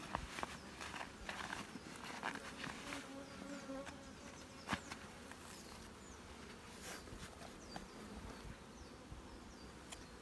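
Honeybees buzz in an open, weak hive being inspected, a steady faint hum layered with scattered clicks and light handling knocks, with no talk.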